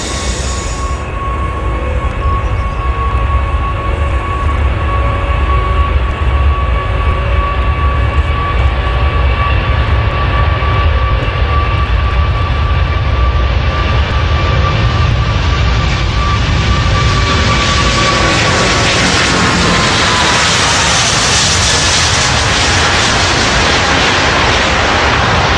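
Airbus A380 taking off during a minimum unstick speed test, a steady loud roar of jet engines and rushing wind that builds slightly toward the end, with a faint sustained whine.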